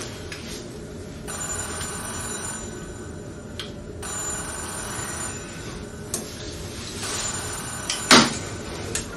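A telephone rings in a room, in repeated bursts with short pauses between them, loud and close, and a sharp knock or clatter lands near the end.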